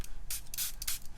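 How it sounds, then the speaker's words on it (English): A spray bottle mists water onto art paper in several short hissing bursts, three or four close sprays with brief gaps between them. "Just spray it a bit."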